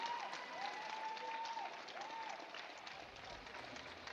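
Applause for two fencers after a bout, a steady wash of clapping from a crowd in a hall, with faint whistle-like squeaks of shoes on the piste early on.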